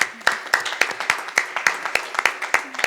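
An audience applauds the ELMPS team at a policy event on the Egypt Labor Market Panel Survey, with sparse, distinct handclaps at a steady rhythm, close and moderately loud, and no talk over them.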